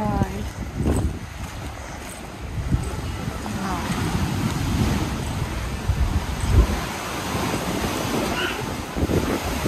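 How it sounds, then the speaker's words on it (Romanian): Ocean waves wash and surge over strong wind buffeting the microphone near deep water off Sunrise beach, with a boat's rumble and people talking faintly underneath. "acolo e adâncă tare și sunt valuri"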